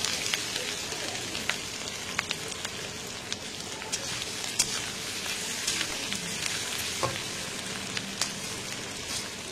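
Ginger frying in a small amount of oil, a soft continuous sizzle with scattered light crackles and pops, steady and close throughout, no talking.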